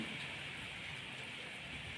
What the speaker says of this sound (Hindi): अब माशाल्लाह बारिश आ गई है।